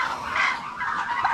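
Turkeys brooding on eggs in a small nest box, with ducks nearby on a farm. Close, throaty calls and clucking sound in short bursts.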